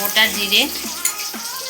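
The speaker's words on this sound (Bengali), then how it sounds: "তেল গরম হয়ে গেছে, ডিম ভাজতে দিয়ে দেবো। দিয়েছি, ভাজা হচ্ছে।" Eggs frying in hot oil in a home kitchen give a steady close sizzle, heard under a voice speaking briefly.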